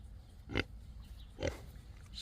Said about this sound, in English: Silly pig.